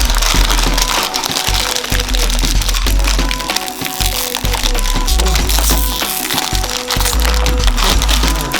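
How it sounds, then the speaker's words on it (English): Two bags of chocolate chips pour into a glass bowl set up as a double boiler, a dense, loud, continuous rattling clatter of small pieces striking glass. "chocolate chips that I'm using. So I'm going to add 2 bags"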